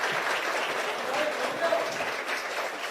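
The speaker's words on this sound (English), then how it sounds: "please give a round of applause to invite President Lai to deliver his remarks" Sustained audience applause fills a banquet hall at an overseas community dinner in Hawaii, steady broadband clapping from a large crowd without a break.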